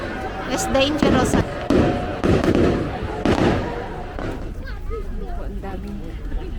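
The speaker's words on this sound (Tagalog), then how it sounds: "Fireworks display." A Guy Fawkes Night fireworks display with bonfire: repeated sharp bangs and crackling bursts, loud and fairly close in the first seconds and thinning out later, over a background of people talking and crowd murmur.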